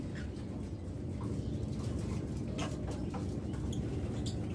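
Soft, low cooing from a pair of Par Blue pigeons, a quiet murmuring burble continuing steadily under faint background noise.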